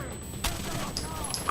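Gunfire in the Rainbow Six: Vegas video game, a loud report followed by scattered shots and rumble in a busy firefight.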